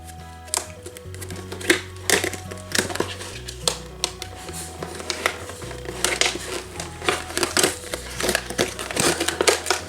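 Crinkly plastic and cardboard packaging of an Azone International Vince doll being torn open and a sticker peeled, close, loud irregular crackles and rips in bursts with brief pauses between.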